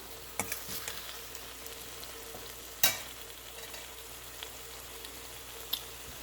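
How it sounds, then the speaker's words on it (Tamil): Radish frying in a pan makes a steady sizzle with occasional stirring clinks and scrapes, close and moderately quiet, with no talk. "இப்போ பாருங்க நல்லா ஃப்ரை பண்ணி வந்துட்டுது"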